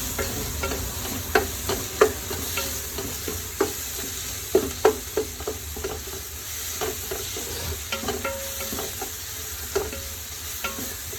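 Coriander powder and garam masala fry in a pan for chicken biryani, giving a soft continuous sizzle broken by repeated sharp scrapes and clacks of a spoon stirring against the metal.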